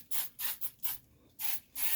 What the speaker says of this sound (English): So we're just going to spray it in the same spots